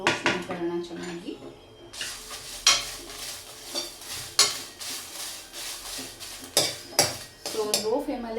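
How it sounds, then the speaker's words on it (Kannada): Dried red chillies, coriander seeds and cumin being dry-roasted in a pan over a low flame, with steady scraping and stirring, metallic clinks of a spoon against the pan, and a faint sizzle running throughout. "ಒಣ ಮೆಣಸಿನಕಾಯಿ, ಹಾಗೆ ಧನಿಯಾ, ಸೊ ಜೀರಿಗೆ, ಸೊ ಇದೆಲ್ಲ ಹಾಕಿ ಚೆನ್ನಾಗಿ ಲೋ ಫ್ಲೇಮಲ್ಲಿ ಸೊ ರೋಸ್ಟ್ ಮಾಡ್ಕೊಳ್ಳೋಣ ಚೆನ್ನಾಗಿ."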